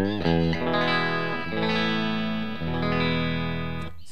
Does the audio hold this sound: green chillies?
no